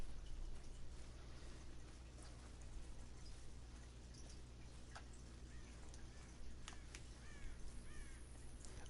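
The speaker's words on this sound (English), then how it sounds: "I've never noticed how many crow sounds that there's on Silver Ridge Peaks." Crows caw intermittently in a game's outdoor hunting area on Silver Ridge Peaks, faint, distant calls scattered over a steady low ambient hum.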